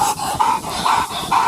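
A police K9 dog during a Georgia arrest gives a run of repeated high, strained whines and yelps in quick bursts, close and fairly loud over a busy background.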